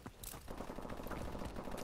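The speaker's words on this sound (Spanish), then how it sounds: "Fíjate, ahí están los disparos." Rapid gunfire in Call of Duty: Advanced Warfare crackles in dense bursts throughout, moderately loud with no voices.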